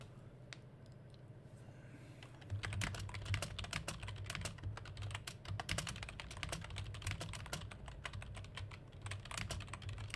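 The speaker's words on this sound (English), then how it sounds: "Sorry about the typing" Rapid, close clicking of keys on a computer keyboard, fast irregular keystrokes continuing steadily for several seconds over a low room hum.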